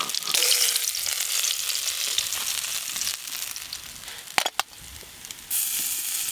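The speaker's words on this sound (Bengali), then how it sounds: "এই দেখুন মাছগুলো একদম লাল লাল করে ভেজে নিয়েছি।" Small silver fish sizzle and crackle in hot oil in a home kitchen, a steady close frying hiss with a few brief clatters of stirring near the end and no talk.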